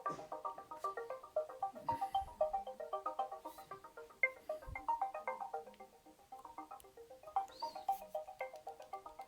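Game audio from Real Racing plays on a Ulefone Tiger phone: a faint, tinny stream of repeated synthetic tones and engine-like notes runs in bursts for about nine seconds, quiet and without speech.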